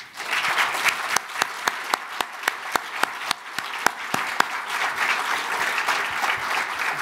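Audience applause at an Asan Institute tenth-anniversary reception, a room of clapping hands with several sharp, distinct nearby claps standing out in a rhythmic run over the steady patter.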